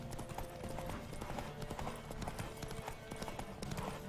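Galloping horse hooves pound in a quick, continuous clip-clop rhythm in The Witcher 3, close and prominent over the game's background ambience.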